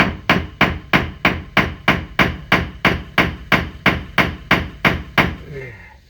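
Hammer tapping a tie rod into place on a 1999 Ford 7.3 Super Duty dually, a steady run of about fourteen sharp, evenly spaced metallic strikes, close and loud with no talk.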